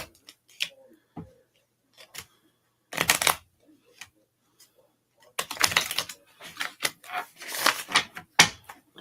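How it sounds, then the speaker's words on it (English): Tarot cards being shuffled by hand, in scattered dry riffling and slapping bursts with quiet gaps between, close and fairly clear. "I'm having a hard time shuffling today."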